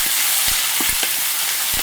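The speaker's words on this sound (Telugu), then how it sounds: "ఈ ఉల్లిపాయలు బ్రౌన్ కలర్ వచ్చే వరకు బాగా వేయించుకోవాలండి." Onions sizzle in hot oil with mustard seeds, cumin and curry leaves, a steady bright frying hiss with a few soft stirring knocks from a spoon against the pan, close and continuous.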